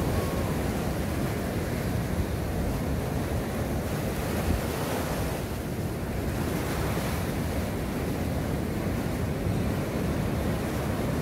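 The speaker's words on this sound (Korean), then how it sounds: "파도가 너무 무섭게" Rough sea waves crash and surge at night along a shore during cast-net fishing, a loud, continuous roar of surf with wind buffeting the microphone and no voices.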